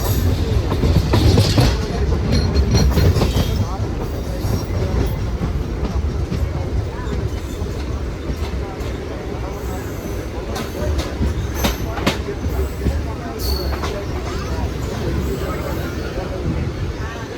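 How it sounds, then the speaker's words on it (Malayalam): A train crossing from the main line onto a station loop at Tiruppur, with a loud, continuous rumble, rolling wheel noise and scattered clanks and squeals, heard from on board. "ഇപ്പോൾ നമ്മൾ മെയിൻ ലൈനിൽ നിന്ന് ലൂപ്പ് കയറിയിട്ടാണ് നമ്മുടെ പ്ലാറ്റ്ഫോം ഉള്ളത്."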